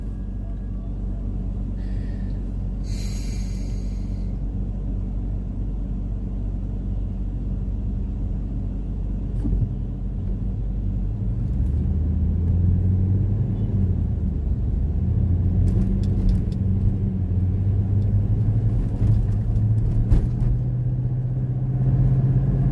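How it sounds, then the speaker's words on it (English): Heavy 20-wheel truck rumbling through town, a deep steady low-frequency drone that grows louder and gains a rising engine tone midway, with no voices over it. "That truck had 20 wheels. It looked awfully heavy."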